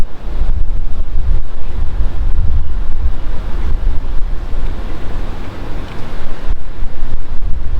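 Strong wind blows outdoors and buffets the microphone with a continuous loud rumbling roar that swells and dips, with no voices.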